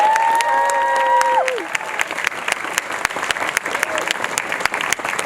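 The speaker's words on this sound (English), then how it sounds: "Let's give a big round of applause to Congresswoman Grace Meng." Steady applause from a crowd fills the space, with dense clapping continuing throughout and a few brief tonal sounds fading early on.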